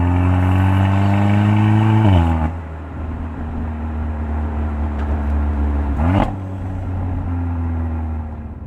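A small car with a freshly rebuilt, performance-modified engine pulls away under gentle throttle, its steady engine note rising through a gear, dropping sharply at a shift, then climbing again, close and loud with no talking.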